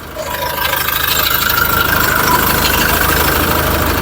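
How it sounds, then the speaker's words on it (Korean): A SsangYong Rexton Sports pickup, fitted as a camper, idles with its hood open. The engine gives a loud, close, even hum with a smooth, unbroken rhythm. "오 엔진 소리 상당히 준수합니다. 한번 들어볼게요."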